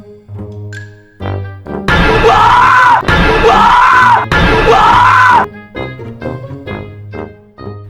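A loud, sustained scream bursts from behind a door as a prank, three long wailing shrieks in quick succession, with quieter tonal sounds and chimes before and after.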